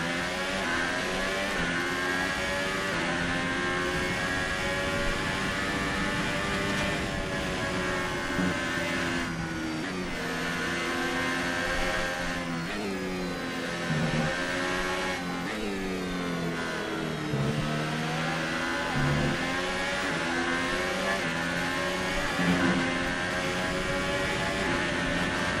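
Formula 1 cars race in F1 2018, a steady, loud mid-pitched engine drone rising and falling with revs, a Ferrari running just ahead, continuous for the whole stretch with no voices.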